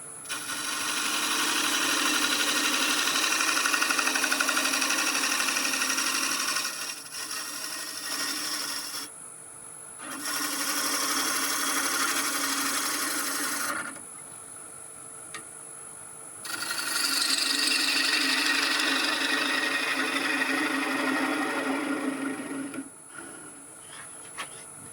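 Beech bowl, winged and spalted, being cut on a wood lathe with a spindle gouge: a steady broadband rasping scrape in three long passes, breaking off with short pauses between them.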